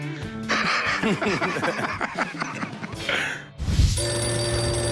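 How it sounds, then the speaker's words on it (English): An old Navy flagship Admiral's phone rings with a loud electric bell, repeated bursts up close, followed by a sustained ringing tone; faint chuckling is mixed in. "I got this flagship Admiral phone I wanted to come show you"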